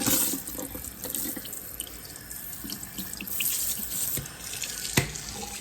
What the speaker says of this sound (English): Now I'll rinse that down.